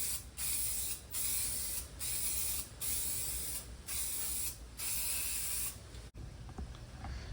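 Silver spray paint hissing from a can onto a drive shaft from a Chevy box car: about six steady, close bursts of spray separated by brief pauses, ending with a sharp click.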